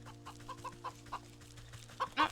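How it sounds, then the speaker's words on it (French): A chicken in the video game Wytchwood clucks in a series of short, evenly spaced clucks over a steady low background hum, ending in a louder burst of squawks. "Ah, une poule."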